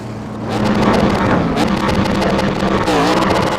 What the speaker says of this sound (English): The victory donuts are beginning.